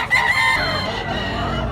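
A single rooster, a 15-month-old bullstag, crows loudly and close by in one drawn-out call.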